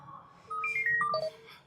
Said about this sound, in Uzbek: ikkinchi marta telefon qilyapti